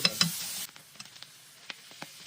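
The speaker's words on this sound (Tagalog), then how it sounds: "pwede na nating isabay na igisa yung ating mushroom" Garlic, onion and mushrooms being sautéed in oil, with a burst of loud sizzling and stirring at the start, then quieter sporadic scrapes and clicks of a utensil in the pan.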